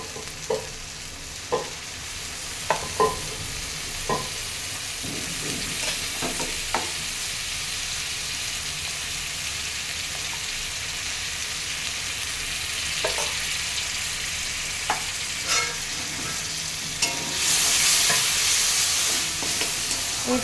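Ginger-garlic paste masala with chopped tomato frying in a pan for prawn malai curry, a continuous close sizzle broken by sharp spatula taps and scrapes at irregular intervals, swelling into a louder hiss near the end.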